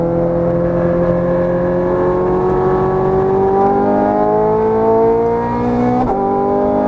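A Ferrari 430 Scuderia on a race track, its engine note climbing steadily and loud under hard acceleration, then breaking off sharply in a quick gear change near the end.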